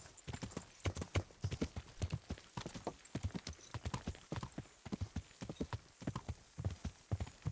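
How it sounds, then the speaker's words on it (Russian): Horses in the Kingdom Come: Deliverance video game clip-clop on the ground in a steady run of close, repeated hoof knocks, with a faint whinny and no speech. "О, все еще лошадки наших бывших друзей тут стоят."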